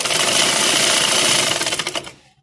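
A sewing machine stitches lace onto a trouser hem, giving a loud, close, steady mechanical whir for about two seconds before it winds down and stops.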